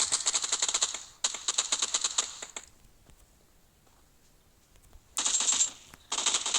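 Rapid automatic gunfire in the PUBG Mobile video game comes in two long bursts, then a quiet gap and two shorter bursts, each a fast, crisp, clattering stream.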